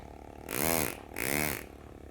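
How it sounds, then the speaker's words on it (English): A Lindsay pneumatic air graver cuts inlay on a Vega Tubaphone tenor banjo, buzzing in two short, close bursts with a rising and falling hum, separated by a brief pause. "I'm using Lindsay air graver, just a pneumatic powered graver. That's what you're hearing."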